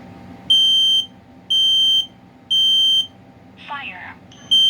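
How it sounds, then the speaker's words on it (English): A KN-COSM-BA smoke and carbon monoxide alarm under test gives loud, evenly spaced shrill beeps, four in a row, with a short synthesized voice announcement between two of them. "the KN-COSM-BA smoke alarm and carbon monoxide detector, which also has a voice feature"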